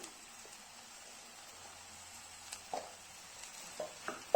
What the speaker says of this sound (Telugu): దీన్ని పచ్చి వాసన అంతా పోయేంత వరకు వేపుకుందాం